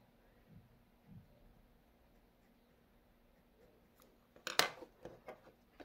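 Scissors snip through a piece of felt to cut out an L shape, a short burst of close, crisp cutting after a quiet stretch with faint handling noises.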